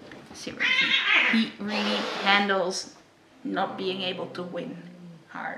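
A house cat caterwauls nearby, letting out long, drawn-out yowls in two bouts with a short pause between them. A person talks over the cries.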